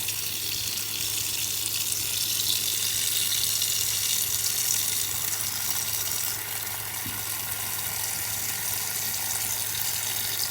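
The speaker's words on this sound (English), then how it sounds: "going to go ahead and fill that up with water." Water from a kitchen sink tap runs steadily into a container for making pesto, a continuous, fairly loud rushing stream heard alone without talk.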